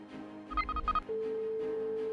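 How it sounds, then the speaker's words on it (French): A telephone rings in short bursts of electronic trills, then gives way to a steady tone, fairly quiet and alone. "Une sonnerie l'interrompt."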